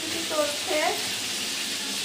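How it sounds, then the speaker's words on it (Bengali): Meat frying in a pan for a home-made roast, giving a soft, steady sizzle with a few brief spatters rising over it, faint and close by, with no voices. "এখানে রোস্টের জন্য মাংস ভেজে নেওয়া হয়েছে, দেখতে পাচ্ছেন"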